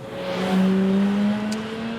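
A classic 33-year-old BMW E30 325i drives by with a smooth engine note that climbs in pitch as it revs, then eases off, heard close and alone.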